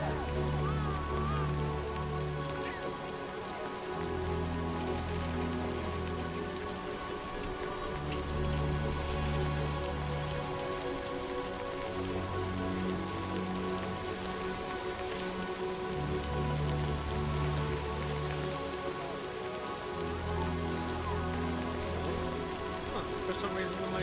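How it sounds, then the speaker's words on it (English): Steady rain falls without letup in Death Stranding 2, a dense hiss of drops on surfaces. Low, droning music with a repeating pattern plays underneath. "Great. Rain. Gotta move."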